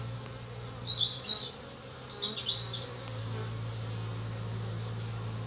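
Honeybees fly busily at a hive entrance on a sunny day, a close buzzing that swells in short bursts as individual bees pass, over a steady low hum.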